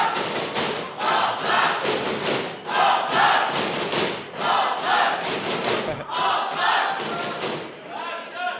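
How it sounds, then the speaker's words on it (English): A debate audience cheers and shouts in repeated loud bursts, whooping and roaring with some thumping, swelling and fading over several seconds without speech on top. "having an excellent crowd is in fact a crowd that cheers"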